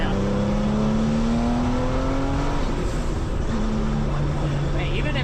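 A Gunther Werks Turbo Mule Porsche sports car engine revs loudly up close, its rising drone sustained throughout with a steady roar and a shift in pitch partway.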